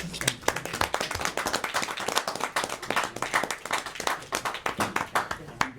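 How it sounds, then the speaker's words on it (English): A small audience at a Fall River Housing Authority meeting gives a round of applause: brisk, close, distinct handclaps in a fairly sparse, uneven rhythm, lasting several seconds, with a few voices underneath. "a round of applause from everyone"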